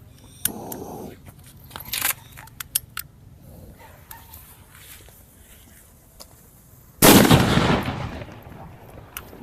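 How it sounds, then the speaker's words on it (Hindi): A Diwali firecracker called a Nazi cracker is set off: a loud, close explosive burst lands near the end, after several scattered sharp pops and rustling on the ground. "चलिए नाजी पटाखा में फटाफट हम लोग आग लगाते हैं।"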